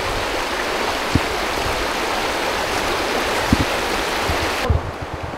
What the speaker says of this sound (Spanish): Ahí tenemos el río Paz.